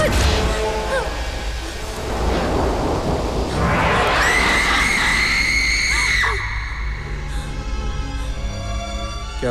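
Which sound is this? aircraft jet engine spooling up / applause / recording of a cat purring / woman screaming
woman screaming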